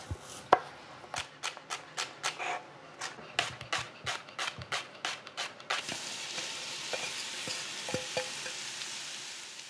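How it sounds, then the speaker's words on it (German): A knife chops vegetables on a board in a kitchen, with beef fat melting nearby, in a steady run of crisp, close cuts. The chopping then gives way to a soft, continuous sizzle with a few light knocks. "Während das Rinderfett schmilzt, schneiden wir das Gemüse."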